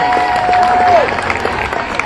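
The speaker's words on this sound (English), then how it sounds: "Round of applause for the bagpiper." Outdoor parade crowd at a small-town old-fashioned festival applauding and cheering a passing bagpiper, a brief burst of clapping with a held tone cutting across it.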